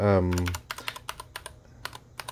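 Keystrokes on a Keychron K8 TKL mechanical keyboard with brown switches, a quick irregular series of crisp close clicks following a brief tone at the start.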